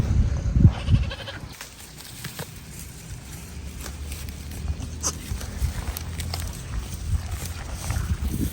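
An aggressive goat lets out loud, close bleats near the start, then the scene settles into outdoor rustling and shuffling with faint scattered clicks, among goats and a ram on a farm.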